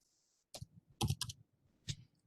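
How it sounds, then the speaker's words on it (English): A few separate key presses on a computer keyboard, quiet and close, in short irregular clicks with pauses between them, alone without any talk. "then just type the code from there"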